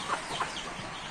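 Chickens and chicks in a coop give soft, faint clucks and a few short chirps, heard from close by with no talking.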